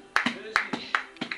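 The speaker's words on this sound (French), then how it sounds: "Acclamons pour l'Éternel, ça fait vraiment du bien." Worshippers at a church service clap in praise to God: sharp, close claps in a quick, regular paired rhythm, with voices mixed in.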